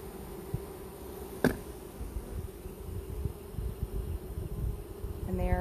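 Honeybees fan at the entrance of a strong hive, a faint, steady buzzing drone heard up close, with one sharp tap partway through and a few soft bumps around it.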